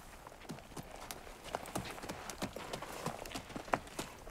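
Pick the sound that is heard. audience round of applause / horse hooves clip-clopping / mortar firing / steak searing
horse hooves clip-clopping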